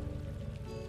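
Water leaking and pouring from an overhang in the Scrap Mechanic survival video game, a steady trickling, splashing stream heard alone for a short moment.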